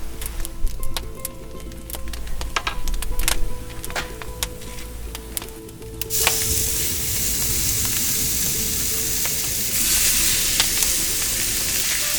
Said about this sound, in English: I'll heat up some olive oil in my pan. And when that's hot, I'll add the meatballs